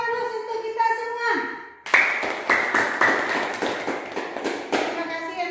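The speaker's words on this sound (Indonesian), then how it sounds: "Kita beri aplaus untuk kita semua" A classroom of pupils breaks into rhythmic group applause, a steady patterned clapping that starts abruptly after a short stretch of sung or spoken voices and continues loudly to the end.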